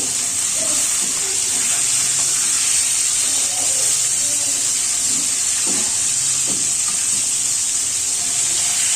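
Fish frying in a clay pot, a loud continuous hissing sizzle of hot oil that stays steady throughout, with faint clinks of a utensil underneath.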